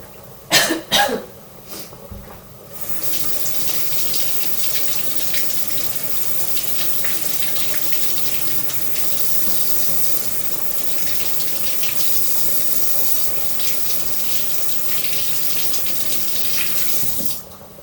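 After a couple of coughs, a kitchen tap runs steadily for a long stretch as mushrooms are rinsed under it, a close, continuous splashing hiss of water.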